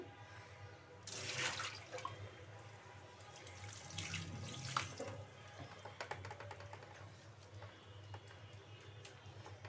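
Water poured into a cooking pot for lentils, two brief splashing gushes followed by faint trickles and drips, quiet and close.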